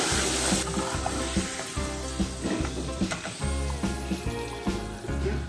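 Potatoes fry in hot oil in a pot, giving a loud continuous sizzle with bubbling and a steady underlying hum, and no talk over it.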